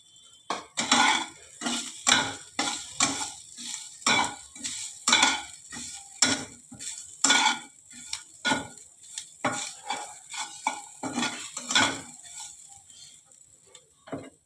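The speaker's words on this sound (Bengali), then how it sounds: "এখন আমি নারকেল কোড়াটা অল্প করে দেবো" Grated coconut is stirred into vermicelli in a pan with a spoon, giving a steady run of soft scraping strokes and light clinks against the metal, close up and moderately quiet.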